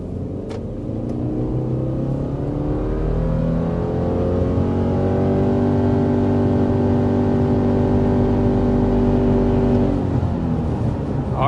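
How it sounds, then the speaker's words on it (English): A 2025 Subaru Forester Touring accelerates to 60 mph. The engine note climbs steadily with a rising whir, heard from inside the cabin, loud and continuous for about ten seconds before easing off. No talking. "there is our acceleration up to 60 miles per hour with the 2025 Subaru Forester"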